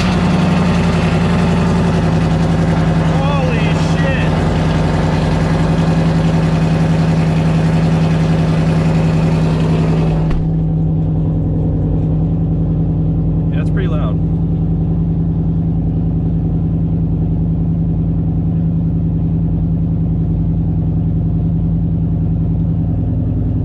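Engine of a 2015 Ford Mustang just after a cold start, idling loud and close with a strong steady low rumble; a high-pitched whine drops away about ten seconds in, leaving a smoother, lower idle.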